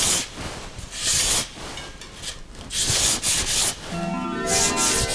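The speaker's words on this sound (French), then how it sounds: "Donc après l'étape du ponçage," Sandpaper roughing up a carbon road bicycle rim in preparation for gluing a tubular tire, heard as close, raspy rubbing strokes in uneven bursts, with a brief faint tonal squeak near the end.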